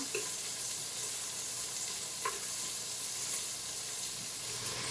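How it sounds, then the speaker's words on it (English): Rice stirring and toasting in melted butter in a hot pot on the stovetop, a steady soft sizzle with occasional faint scrapes of stirring. "I'm just gonna put the rice right in. And then just stir it around."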